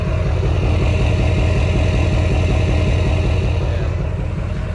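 A truck idles after a remote start, heard close at the exhaust as a steady, low, throbbing rumble that holds evenly throughout with no talking.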